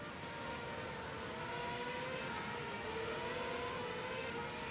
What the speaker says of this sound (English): That car sounded sick to me.